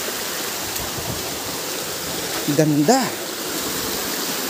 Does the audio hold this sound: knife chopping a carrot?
no